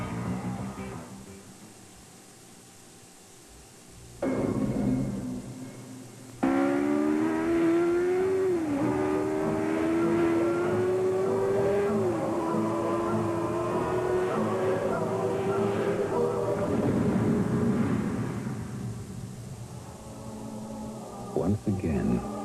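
A Nissan Z sports car engine revs in a TV commercial, a loud sustained rising whine holding for many seconds, under and alongside an announcer's voice.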